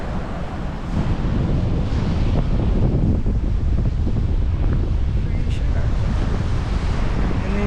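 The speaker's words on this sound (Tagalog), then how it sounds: "Lakas ang hangin." Strong wind gusts near the Agos River, buffeting the microphone with a loud, continuous low roar that swells after the first second and stays steady throughout, no voices present.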